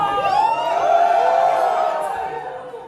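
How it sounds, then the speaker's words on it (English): Boys in the audience at an Indian Student Association Diwali event in Delft cheer and whoop together, a loud rising crowd roar that swells and then fades over a few seconds. "So now, all the boys in the house, give me a cheer."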